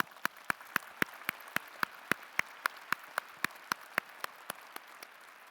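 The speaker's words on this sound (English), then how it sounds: "Let's give our faculty a round of applause." Sharp, evenly spaced claps, about four per second, ring out at a commencement ceremony as the audience applauds the faculty, fairly faint over a soft crowd wash.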